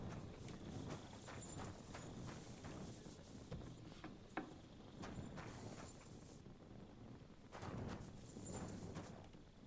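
Steady clip-clop of horse hooves walking, close and continuous, with faint background ambience and brief louder bursts of movement, in the video game Kingdom Come: Deliverance II.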